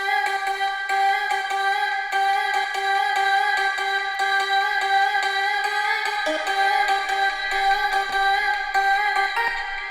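A bright techno vocal sample with stacked, sustained tones and a rhythmic chopped pulse, steady and alone.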